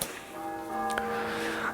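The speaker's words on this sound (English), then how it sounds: "The bells, the bells. I think somebody must be getting married today" Church bells ring in the distance, a sustained tonal chime with a fresh strike partway through, faint and alone.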